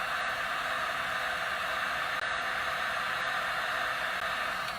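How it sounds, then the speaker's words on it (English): Heat gun running steadily while heating a pendant bezel for soldering, a constant close hiss of blowing air at moderate level with no change in pitch or rhythm throughout. "Whenever you're not using your heat gun, you want to make sure that you sit it with the end facing up"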